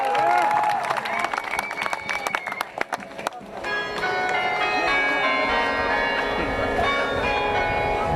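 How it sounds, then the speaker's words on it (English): Bells ring repeatedly at an outdoor rally outside a hospital, loud and continuous with a crowd around them, while people talk beneath the clanging. "Bells of freedom. The bell tolls for freedom."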